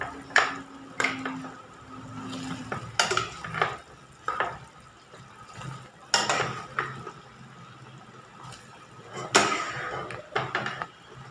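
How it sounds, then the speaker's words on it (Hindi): Amla gooseberries dropped into a pan of boiling sugar syrup on a stove make a run of sharp knocks, splashes and utensil clatter over a low, steady bubbling. "अब हम आंवले को उठा के शीरे में डालेंगे ताकि और अच्छा पकने दो।"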